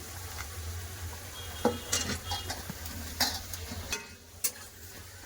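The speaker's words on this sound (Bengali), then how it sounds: "আলু দিয়ে ভালো করে কষে এবার দিয়ে দেবো জিরা গুঁড়া" Fried potatoes are stirred into a sautéed spice masala in a pan: a steady soft sizzle with irregular scrapes and light clinks of a spoon against the metal.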